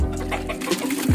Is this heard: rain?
no